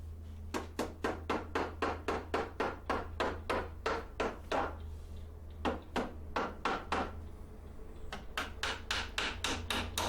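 Fast, even hammer blows drive 1.5 inch galvanized nails into cedar fence boards on a potting bench, in three quick runs of strikes with short pauses between them, over a low background hum.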